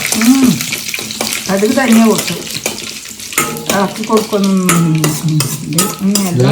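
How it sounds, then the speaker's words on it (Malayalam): Mustard seeds crackle and pop in sizzling hot oil, a busy spattering that runs throughout while a voice keeps talking over it. "കടുക് നല്ലോണം പൊട്ടുന്നുണ്ട് കേട്ടോ"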